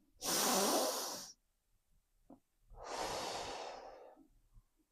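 Two long, heavy breaths during a yoga exercise, a sharp inhale followed by a slower, drawn-out exhale, close and alone in a quiet room.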